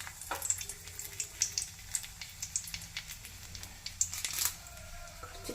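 Mustard seeds and red chilli fry in hot oil while making lemon rice, with irregular crackles and sharp pops over a soft, steady sizzle, close and fairly quiet, with no voices.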